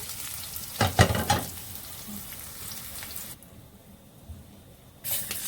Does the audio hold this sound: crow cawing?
no